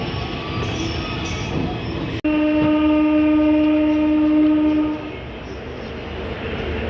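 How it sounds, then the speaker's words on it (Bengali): A train rumbles past close by, with a steady drone; a loud horn blows for a few seconds before the rumble carries on. "ওই দিক দিয়ে আরও একটা ট্রেন বেরিয়ে যাচ্ছে"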